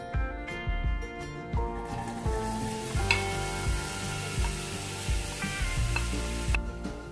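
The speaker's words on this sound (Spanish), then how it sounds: "vamos a mover constantemente hasta que se sofría bien la cebolla" Chopped onion frying in hot oil while being stirred constantly, a continuous sizzle under repeated low clunks and scrapes of a utensil against the pan, close and steady, with no talking.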